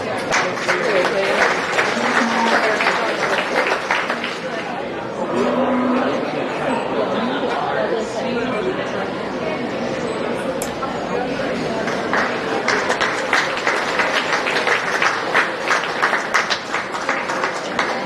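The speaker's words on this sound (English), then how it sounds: "Again, let's give them one last round of applause." Crowd applause and chatter fill a county fair beef show arena honoring champion and reserve market dairy beef cross heifer exhibitors, a steady broad clapping wash lasting throughout with voices and occasional animal or footstep sounds mixed in.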